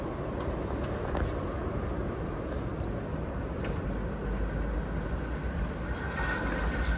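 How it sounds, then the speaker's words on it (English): An MBTA Wonderland train arrives at Revere Beach station, giving a steady low rumble and rail hiss that is fairly faint, with brief higher squeals over the continuous noise. "Here comes the Wonderland train now, arriving in Revere Beach."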